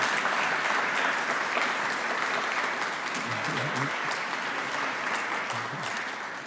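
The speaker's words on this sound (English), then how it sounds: "That's an applause line, too." Audience applause at a mental health and addiction event, a sustained wash of clapping from a large indoor crowd with a low voice briefly audible underneath, fading slightly toward the end.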